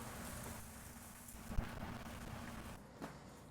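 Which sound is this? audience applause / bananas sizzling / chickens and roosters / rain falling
rain falling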